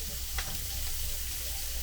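Onion sizzling as it hits a hot pan at medium-high heat for Pollo Guisado, a steady broadband hiss with a brief sharper burst near the start, moderately loud and alone.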